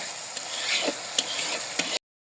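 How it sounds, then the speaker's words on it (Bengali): Spice paste for beef curry sizzles steadily in a pan as it is stirred, with a few sharp scrapes of the spoon against the pan, then the sound stops abruptly. "এখানে মশলাটা ভালোভাবে কষিয়ে নিব এখন"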